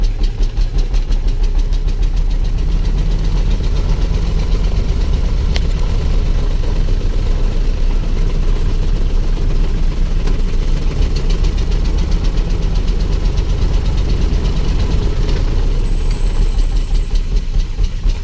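A 1906 Cadillac delivery van's engine chugs steadily on the road, a loud, continuous low rumble with a fast regular beat and rattling wind and road noise throughout.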